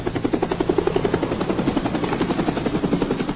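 Helicopter rotor chopping steadily for a wartime airlift of wounded soldiers to a field hospital near Cu Chi, a loud continuous rhythmic thumping with no talk.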